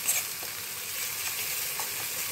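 Spice paste (masala) with chili powder frying in a pan for stuffed patol, a steady soft sizzle with faint crackles, fairly quiet and continuous.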